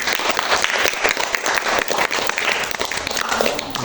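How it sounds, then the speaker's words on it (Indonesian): Dense, steady applause from a ninth-grade class cheering a student group, filling the room loudly and continuously with faint voices mixed in. "Sudah tepuk tangan sekali lagi untuk kelompok Tegak Sitan"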